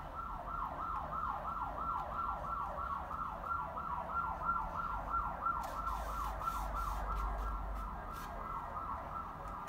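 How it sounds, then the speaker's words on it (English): An ambulance siren wails in a fast, steady rising-and-falling cycle, loud and continuous over faint traffic rumble. "I think it's the ambulance."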